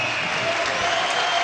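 Crowd applause in an event hall at a showman contest between Greek and Turkish competitors, a loud, dense, continuous roar of clapping from many hands, even and sustained.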